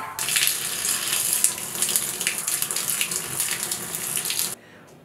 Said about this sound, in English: I just say it's the tap, you know, where you can fill up a bucket or something standing down.